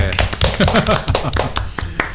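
A few people clap in applause of encouragement during a Korean podcast talk, a brief close burst of irregular sharp hand claps.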